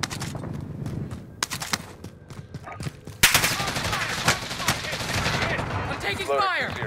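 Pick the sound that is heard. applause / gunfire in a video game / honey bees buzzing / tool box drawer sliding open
gunfire in a video game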